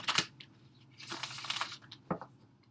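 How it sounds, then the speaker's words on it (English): A deck of tarot cards is shuffled by hand during a reading, giving a few soft, close riffling and flicking bursts in a quiet room. "one more shuffle"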